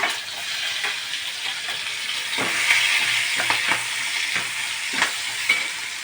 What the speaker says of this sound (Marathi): आपली फोडणी चांगली तडतडली आहे तर मी टाकत आहे कांदा